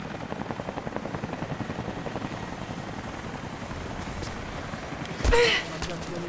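A video game helicopter's rotor chops steadily in a rapid, rhythmic thudding, with a short sharp burst of noise near the end, from Rise of the Tomb Raider.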